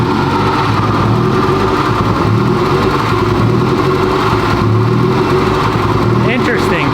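The engine of a 2021 Honda Civic Type R being rebuilt after a total loss runs rough and mistimed, a loud, steady, low rumbling idle close by, with someone talking over it.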